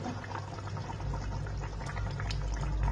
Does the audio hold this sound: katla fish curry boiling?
yes